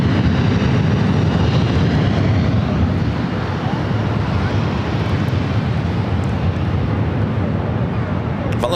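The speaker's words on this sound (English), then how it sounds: "Next arrival is Alaska SkyWest flight 3306, coming in from Santa Rosa, California to the E175" Alaska SkyWest Embraer E175 jet arriving from Santa Rosa, a loud, steady broadband engine rumble and rush that holds throughout, with faint voices in the background.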